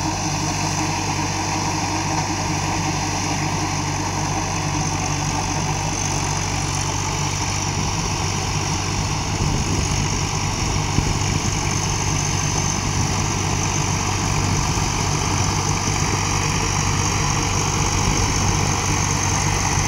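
An old Swaraj tractor engine runs steadily at 1600 rpm, a close, loud, continuous diesel drone with an even low throb and no pauses or talk.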